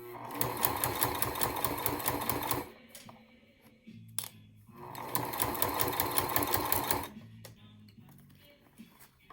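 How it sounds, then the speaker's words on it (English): A domestic sewing machine stitching a leather mini duffle bag runs in two loud steady bursts of rapid needle clatter, with a short pause between them where a few clicks and a faint voice are heard. "I'm starting my stitch, back stitch, get rid of my pin, and then start moving."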